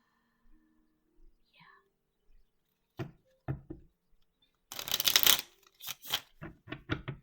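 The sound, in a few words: tarot cards being shuffled and pulled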